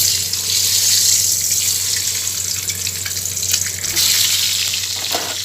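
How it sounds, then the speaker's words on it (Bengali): Boiled eggs coated in salt and turmeric go into hot oil over lowered heat, frying with a steady, fairly loud sizzling hiss from start to finish and a few brief crackles near the end. No one speaks. "দিয়ে এবার সিদ্ধ করে রাখা নুন হলুদ মাখানো ডিমগুলোকে এবার ভেজে নেব।"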